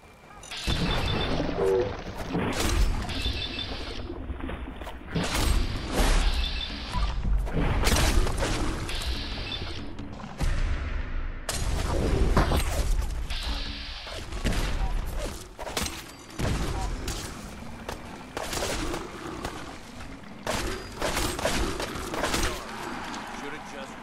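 Fallout 4 Far Harbor battle against Gulpers in fog: repeated loud bursts of gunfire and booming impacts come in clusters over half a minute, mixed with shouted voices and crashes.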